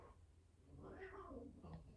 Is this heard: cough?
no